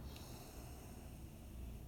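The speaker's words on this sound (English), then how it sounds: "Let's get them sniffing." Someone sniffing a glass of Tree House hazy IPA brewed with Galaxy hops, drawing in its aroma with a close, steady breathy snort that runs through the whole stretch over faint background hum.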